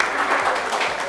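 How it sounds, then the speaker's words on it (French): A studio audience on a live talk show breaks into a brief, dense burst of clapping to cheer on a guest, steady and fairly loud for about a second. "On va l'applaudir pour l'encourager"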